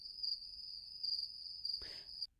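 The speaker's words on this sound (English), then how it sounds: "Crickets." Crickets chirp as an inserted sound effect, a steady, unbroken high trill heard alone, with a brief rustling burst just before it cuts off abruptly.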